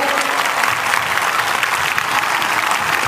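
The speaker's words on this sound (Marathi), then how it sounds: "जोरदार टाळ्या वाजून स्वागत करायचं" Loud, dense applause from an audience welcoming someone at a Marathi gathering, steady, close-sounding clapping filling the whole stretch without a break.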